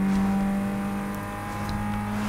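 A racing car engine in Need for Speed Underground 2 drones at a steady, loud pitch, holding a sustained hum close up with no talk.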